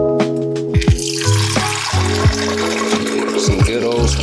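Tap water runs steadily into a container in a kitchen, a continuous close rushing hiss over faint tonal background sounds.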